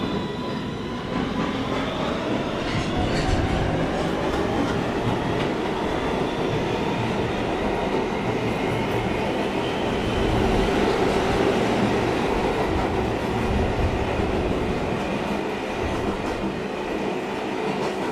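A new R262 MTA subway train running, a loud, continuous rumble and roar of wheels on rail with faint rhythmic clatter and a thin high whine, sustained throughout without voices.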